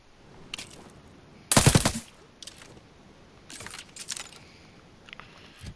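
A gun in Outer Worlds 2 fires short three-round bursts, one loud, close burst followed by quieter scattered shots and clicks.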